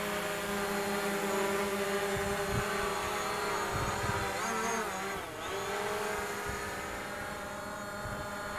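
A DJI Mavic Pro drone's motors spin up and hold a steady, close whirring buzz with tonal harmonics, pitching up briefly as it starts to lift off in wind near Lake Erie.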